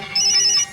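A mobile phone ringtone sounds in a short, steady electronic tone burst of under a second, loud and clear with no talking over it.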